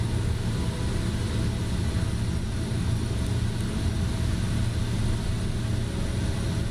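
Pilatus PC-12 turboprop engine in Microsoft Flight Simulator, flying over Papua: a steady, loud drone holding evenly throughout at cruise power, with no talk in the clip.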